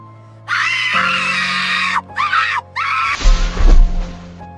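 A figure crashing to the ground amid loud screams in a haunted old Rajasthani haveli: three shrill, sustained scream bursts in close succession, then a heavy low thud and rumble as the shrieking trails off.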